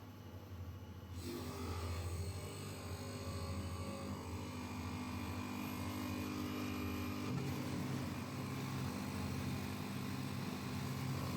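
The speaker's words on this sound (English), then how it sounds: "And turn on the second grinder switch." A duplex soybean grinder machine runs with a steady low motor hum and mechanical whir, starting up after a brief moment and holding constant at a moderate level, with no voices.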